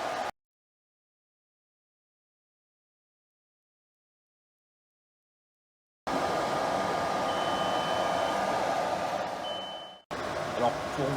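A laser cutter working through 5 mm plywood, giving a steady broadband whir with a faint high whine, loud and close. It starts only after a long silent stretch and breaks off briefly near the end.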